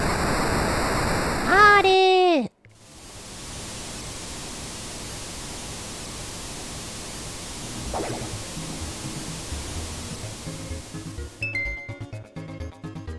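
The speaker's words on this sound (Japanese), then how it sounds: "これは水が流れてくる音ですよ。" Water rushes through a waterway in Super Mario RPG: a steady, broad hiss of flowing water follows a burst of game music and continues for several seconds before music returns.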